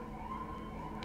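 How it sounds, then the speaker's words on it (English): Emergency vehicle sirens wail outside, a faint, steady tone for a brief second heard from a distance. "As the sirens get even louder."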